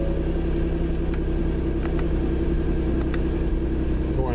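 A Ford Explorer Sport fitted with a Borla exhaust idles with a steady, deep rumble, loud and close, holding an even throaty drone throughout with no revving or voices.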